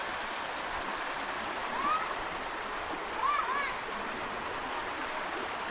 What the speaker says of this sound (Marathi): सळसळ वाहणारं पाणी, पाण्याचा आवाज खूप भारी यार